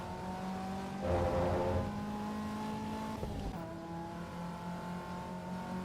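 Race car tires squeal in the Assetto Corsa EVO racing game, a sustained tonal screech over a steady engine drone, with a brief louder rush of engine around the middle and no talking.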